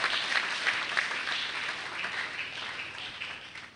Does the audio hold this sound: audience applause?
yes